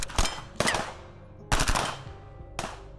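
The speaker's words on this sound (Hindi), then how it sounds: "इस बार सिर्फ एक नहीं बल्कि कई सारी गोलियां एक साथ चल रही थी" Several gunshots ring out in loud, sharp bursts, four separate volleys about a second apart, each a cluster of overlapping cracks with reverberant tails, nearby and with no voices.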